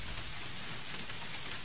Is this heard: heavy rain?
yes